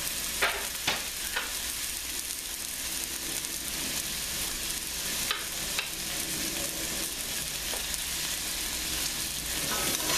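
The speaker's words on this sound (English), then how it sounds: "we're going to add a little bit of liquid because it's braised, meaning it's not boiled." Flat iron steak braising in a pan with added liquid and vegetables gives a steady, even sizzle and bubbling, with occasional soft clicks of stirring, at moderate loudness and without talk.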